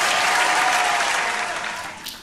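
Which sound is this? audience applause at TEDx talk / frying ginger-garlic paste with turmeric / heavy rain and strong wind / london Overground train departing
audience applause at TEDx talk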